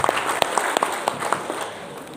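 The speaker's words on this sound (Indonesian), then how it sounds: "Kita berikan aplaus tepuk tangan." Brief scattered clapping from a small crowd at a teachers' awards ceremony, a few sharp claps standing out over a soft patter that fades toward the end.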